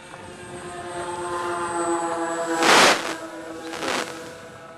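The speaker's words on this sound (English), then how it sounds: "I'm flying about third throttle right now" A model Hercules airplane flying at about a third of full throttle high over Squaw Peak, its motors giving a steady droning hum with harmonic tones, swelling into two louder passing whooshes near the end.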